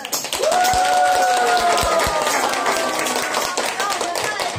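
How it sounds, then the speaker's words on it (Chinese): An audience claps to welcome a group of volunteer performers at a Christmas event at a rehabilitation centre, scattered close handclaps mixed with a sustained voice and crowd noise. "那我们一起掌声欢迎欢喜天使们"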